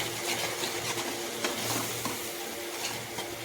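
Mutton curry masala sizzles and fries steadily in mustard oil, a continuous close hiss with faint stirring scrapes throughout.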